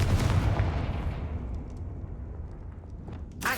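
The Confringo blasting spell in the Hogwarts Legacy video game: a heavy, booming explosive burst that rumbles and slowly decays over a few seconds, ending with a sharp crack, loud and close without speech.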